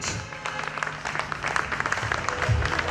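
An audience at a summer festival applauding steadily, the clapping building slightly and sounding like a mid-sized crowd in a room.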